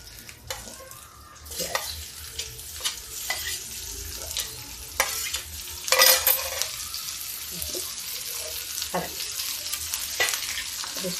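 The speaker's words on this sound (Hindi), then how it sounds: "इसको हम हल्का फ्राई कर लेते हैं" Garlic fries lightly in oil on low heat for a leafy nari saag, a gentle sizzle under repeated scraping and clinking stirs of a spoon against the pan.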